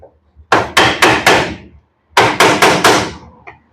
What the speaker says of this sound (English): Here we can hammer like that. It will come out.